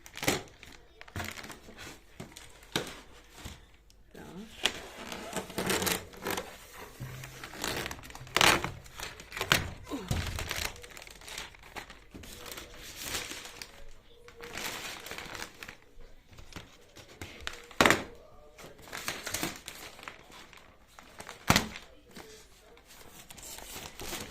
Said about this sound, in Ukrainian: Тепер знімаємо захисну плівку.